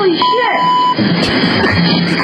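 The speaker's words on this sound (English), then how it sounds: "Why'd you bleep it out?" A single steady censor bleep covers a swear word on a podcast, lasting under a second before excited talk resumes.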